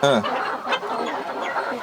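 Sonali chickens cluck in a busy overlapping chorus nearby, with a louder squawk at the start. Someone talks over the flock.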